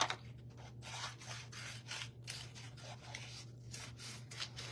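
Scissors cut through material in repeated snipping strokes with a rough, rasping texture. The sound is close and fairly quiet over a steady low hum, and no one speaks.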